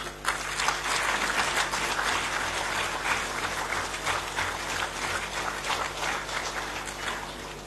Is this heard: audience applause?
yes